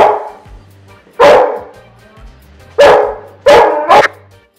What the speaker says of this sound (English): Silly dogs are barking at themselves.